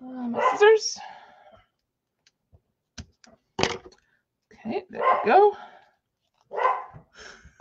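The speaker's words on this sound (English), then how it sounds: "Sorry for the dog barking." A dog barks several times in short bursts, fairly close, interspersed with a person speaking and a few sharp clicks.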